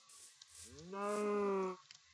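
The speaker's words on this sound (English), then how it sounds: "Oh, a cow." A single drawn-out cow moo from a Minecraft Feed The Beast modpack game, low and tonal, rising then holding for about a second, fairly quiet with faint background noise.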